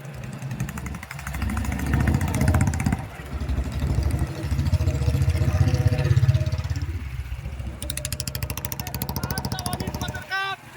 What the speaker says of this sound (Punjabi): ਇਹ ਮੋਟਰਸਾਈਕਲਾਂ ਦੇ ਕਾਫਲੇ